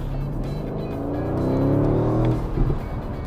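A powerful Aston Martin DB11 Volante V8 engine, sourced from Mercedes-AMG, revs up, its pitch climbing steadily to a loud peak before dropping off, heard close by.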